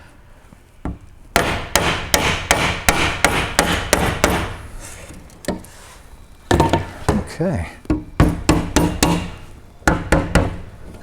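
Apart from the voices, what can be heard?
hammer tapping while fitting truck side glass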